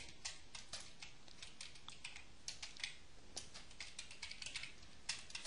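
Quiet, irregular clicking of keys on a computer keyboard as someone types a short entry while coding in C#, a scattered run of soft taps with no voice.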